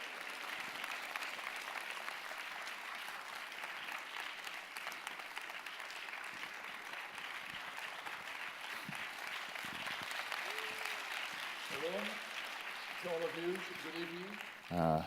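Audience applause at an evening Israel-themed lecture in a church hall greets Dr. Erez Soref taking the stage. A steady, moderately loud wash of clapping runs throughout, and a few voices call out near the end.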